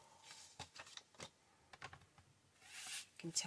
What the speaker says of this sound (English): Can you hear the blade slicing through it?